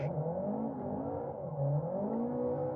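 A car engine drifting in the Assetto Corsa driving game, a steady revving drone with shifting pitch that rises and falls as the throttle changes, continuous and moderately loud.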